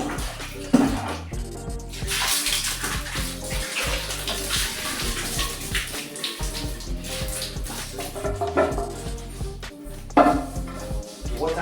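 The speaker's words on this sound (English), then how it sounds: "Water sediments inside the tank is what we are cleaning out now." Water splashes and sloshes continuously inside a toilet cistern tank as sediment is scrubbed and rinsed out, with louder bursts of pouring and clattering throughout, and no voices.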